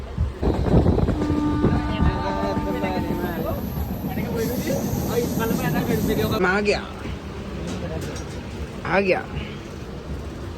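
A crowded passenger train leaving Mariani station rumbles steadily, with a rattling hum inside the general compartment, under close chatter and background voices throughout.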